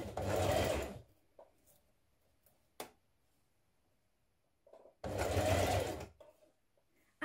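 A sewing machine hems the back neck of a New Look 6347 dress in two steady whirring bursts, close and loud, separated by a quiet pause with faint handling clicks.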